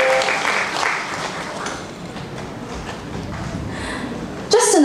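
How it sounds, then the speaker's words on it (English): Audience applause at a performance showcase at Saigon Grand Center, a broad wash of clapping that fades gradually, followed by a brief burst of sound at the end. "applause for our twins"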